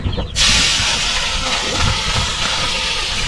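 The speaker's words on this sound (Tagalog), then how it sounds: "iprito natin yung isda" Fish dropped into hot oil, a sudden loud, steady sizzling hiss that starts abruptly and keeps crackling close up.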